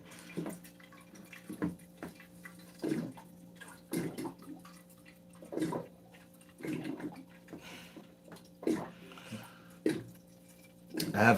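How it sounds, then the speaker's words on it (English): Tap water running into a container in a home kitchen, a soft intermittent splashing and dripping heard in short bursts against a steady low hum, with no clear speech. "Let's fill this up with water."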